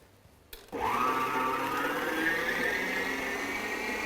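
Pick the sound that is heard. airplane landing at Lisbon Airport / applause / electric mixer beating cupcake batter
electric mixer beating cupcake batter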